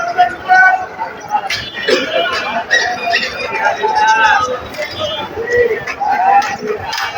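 Male pigeons cooing at the Kaptan Bazar pigeon market in Dhaka: repeated throaty coos and scattered chirps from several birds, close and fairly loud, over a steady murmur of market crowd chatter with people talking nearby.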